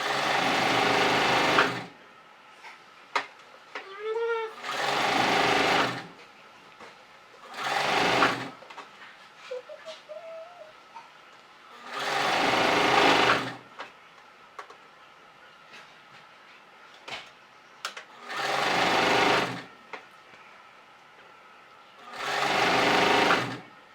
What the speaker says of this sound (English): I'm just sewing the liner permanently into the bag while I'm removing the pins as I go along.